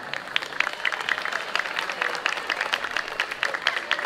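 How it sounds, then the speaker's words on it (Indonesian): An audience of school students and staff applauds at a junior high school student council election event, brisk dense clapping in a hall that continues steadily without speech. "Tetapi boleh tepuk tangan."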